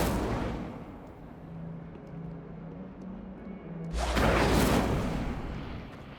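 An Incendio fire spell cast in Hogwarts Legacy, a low rumbling roar that settles, then bursts into a loud broad whooshing blaze that holds and slowly fades.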